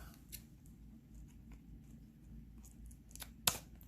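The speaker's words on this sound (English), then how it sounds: "I think I'm going to have to cut this off." Scissors snip once through packaging tape on a box opened for a monthly unboxing, a single sharp close cut after quiet faint handling rustles.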